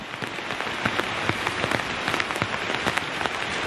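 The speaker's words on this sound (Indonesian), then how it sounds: "sekarang lagi hujan" Steady rain falls in Kalimantan, with dense patter and scattered louder drops hitting a surface throughout, no voices.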